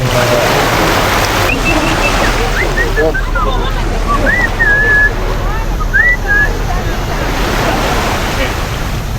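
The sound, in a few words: beach ambience with waves at Maya Bay, Krabi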